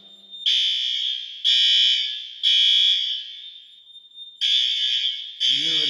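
A fire alarm panel sounds in repeated long blasts with short gaps, a steady high-pitched electronic tone, with a brief voice at the end.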